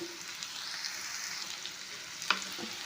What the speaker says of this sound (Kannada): ತಿಪ್ಪಿಕಾಯನ್ನು ಹಾಕ್ಕೊಂಡಿದ್ವಲ್ಲ ಇದು ಎಣ್ಣೆ ಒಳಗೇ ಸ್ವಲ್ಪ ಹೊತ್ತು ಫ್ರೈ ಮಾಡ್ಕೋಬೇಕು ಎಣ್ಣೆ ಒಳಗನೆ ತಿರುಗಿ ತಿರುಗಾಡ್ಬೇಕು